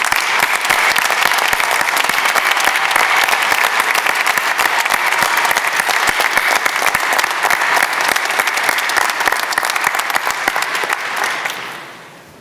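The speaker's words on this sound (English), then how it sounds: "please rise and applaud the success of our graduates" Sustained applause from a large crowd at a graduation ceremony, dense steady clapping that carries on evenly before tapering off at the very end.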